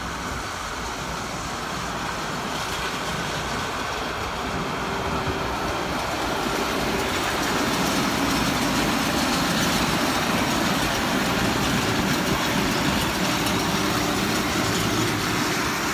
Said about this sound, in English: then the baler comes behind it